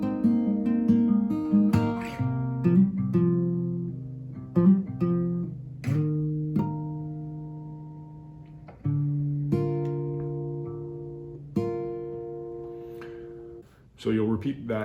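Acoustic guitar plays a song up to the bridge, a fingerpicked pattern of ringing plucked notes and chords, close and clear with no talking over it.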